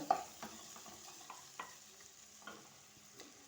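Turmeric is stirred into chicken curry in a pan, producing faint, soft scraping strokes every half second or so over a quiet, low sizzle, with no talking.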